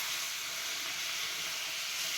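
Cumin and mustard seeds sizzle in hot oil for a pea chilli thecha, a steady, dense hiss filling the moment without pause and with no voices over it.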